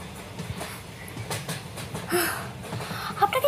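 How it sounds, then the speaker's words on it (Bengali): A departing train, as a sound effect in a Bengali romance audio story: a faint, steady rumble of rolling rail cars with a soft clatter and a brief hiss near the middle, ending in a few louder knocks. "ছোট ছোট ট্রেন তো ছাড়তে চললো"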